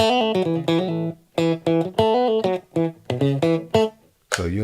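Electric guitar notes plucked with the side of the thumb give a warm, rounded tone with extra harmonics, heard as several short groups of repeated notes separated by brief pauses, close and clear.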